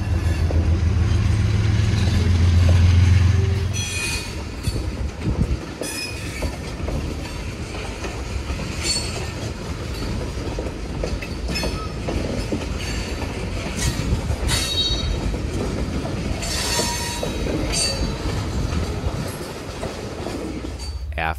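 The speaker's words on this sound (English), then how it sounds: "after dropping their train, the crew builds the outbound 323 before departing northbound for Montreal." A freight train rolls through the St. Albans, Vermont rail yard on the New England Central, heavy rumble with clanking cars and steady wheel noise throughout, a brief louder low rumble at the start and occasional high wheel squeals.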